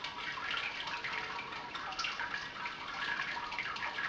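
Wort drains slowly from a Brewzilla all-in-one brewing system, a soft, steady trickle of liquid splashing into a vessel, faint and continuous with light dripping detail.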